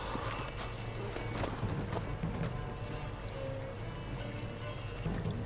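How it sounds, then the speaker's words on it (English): Steady rhythmic hoofbeats of a horse clip-clopping along in The Witcher 3: Wild Hunt, dense and continuous with a busy game-like background bed, no talking. "I was busy focusing on how to ride the horse"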